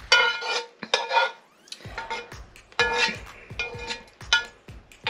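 Sautéed chicken livers with onions are mixed into a stuffing for a roasted whole chicken, Guyanese style, bringing several close, loud bursts of clattering dishes and utensils with scraping and stirring between them.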